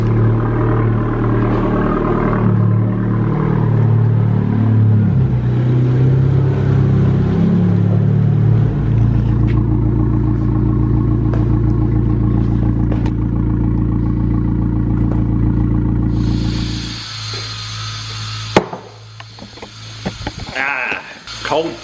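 Polished metal Honda Civic Type R with its engine running nearby, a steady low droning rumble that holds for several seconds before dropping away, with some handling noise at the end.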